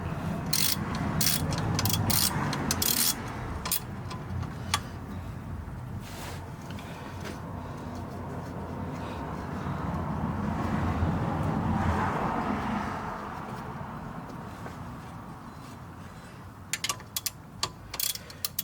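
A box-end wrench ratchets and clicks against a bolt on the engine mount of a 2009 Chevrolet Aveo5, a steady run of close metallic ticks and scrapes with bursts of sharper clicking near the start and end.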